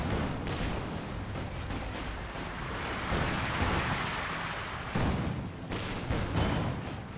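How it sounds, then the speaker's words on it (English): In the video game Company of Heroes 2, a T-70 tank and Vickers K machine guns keep firing. The battle makes a dense, continuous din of rapid shots and booms with no break. "T-70 firing away. Got the Vickers K units firing away."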